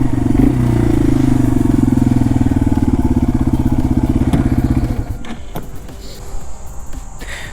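A 2021 Yamaha TW200 motorcycle rides in tight circles, its engine putting out a loud, steady chugging drone up close for about five seconds, then backing off to a quieter, uneven idle with small clatters.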